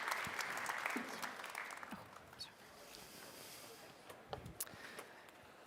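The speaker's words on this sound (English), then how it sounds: "Round of applause." An audience at a tech conference stage claps together, a dense burst that thins out and fades into a few scattered claps by the end.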